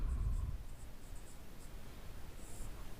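Chalk or marker writing on a board during a chemistry lesson, faint scratchy strokes with a slightly louder burst at the start, then soft intermittent scraping with no talk.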